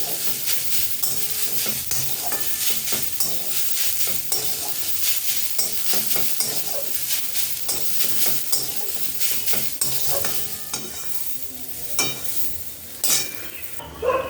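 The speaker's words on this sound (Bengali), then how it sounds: "এই দেখো বিট করা ভাজাটা তো হয়ে গেছে।" Beetroot fries in a pan with a steady sizzle under frequent stirring scrapes and occasional utensil clinks, close and moderately loud, with no one talking.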